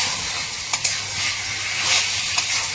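Mutton pieces sauté in a hot pan with a loud, steady sizzle, punctuated by a few quick scrapes and knocks as they are stirred.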